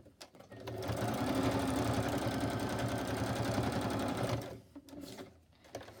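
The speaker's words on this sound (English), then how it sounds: "So let's hold that in place and stitch backwards and forwards there." A sewing machine stitches backwards and forwards across a paper tag made from an old book page, a close, steady mechanical whir lasting about four seconds before stopping, followed by a few small handling sounds.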